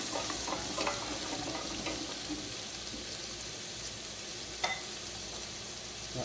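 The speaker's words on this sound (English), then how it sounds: "the onion. I'll just give that a stir." Chopped onion sizzles steadily in a hot pot for a Mexican meatball soup, with a spoon stirring through it and a few light scrapes and clinks over the constant frying hiss.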